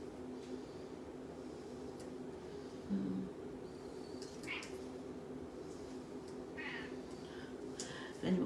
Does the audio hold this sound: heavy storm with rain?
no